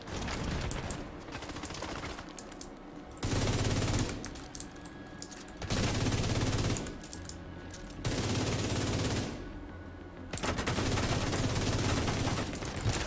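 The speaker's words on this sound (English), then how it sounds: "He's blind firing again" Enemy blind-firing automatic guns in the shooter game Division 2, with dense rattling bursts of a few seconds each broken by short pauses, loud and continuous with no talk.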